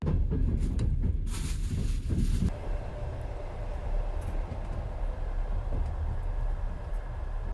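Steady low rumble inside a passenger train compartment waiting for departure on the Kyiv–Budapest route, with a brief burst of hiss and clatter at the start, then a continuous droning hum with no voices.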